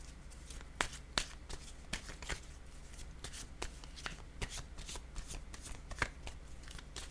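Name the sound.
tarot cards being shuffled and handled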